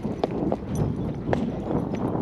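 Horse hooves clip-clopping at a trot as a horse leaves a barn, a steady rhythmic series of muffled hoofbeats close by over a rumbling, breezy outdoor background.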